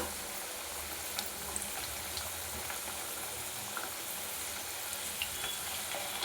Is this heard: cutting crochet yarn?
no